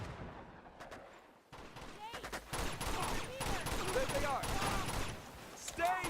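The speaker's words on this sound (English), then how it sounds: "So with the pistol on Explorer, it kills them in 2 shots" Pistol gunfire from shooting enemies in Uncharted 2: Among Thieves on Explorer difficulty, rapid loud shots in quick succession amid battle noise and game effects, with a voice talking over the action.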